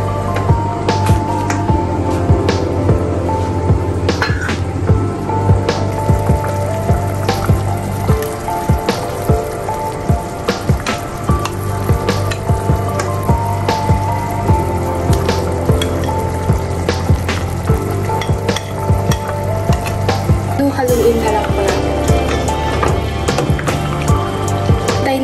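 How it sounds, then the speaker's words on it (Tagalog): Chicken noodle soup broth boils in a pot, a close, continuous bubbling and popping with a steady low rumble and frequent small crackles throughout. "Kumukulo na po yung sabaw, mag-a-add na po tayo ng hotdog."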